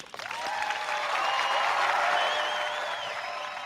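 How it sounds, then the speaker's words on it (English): A canned applause sound effect dropped into a horror-movie podcast: a dense, sustained burst of clapping and crowd noise that swells quickly, holds steady for a few seconds and then eases slightly, heard alone without talk. "I got the good applause back for you this week."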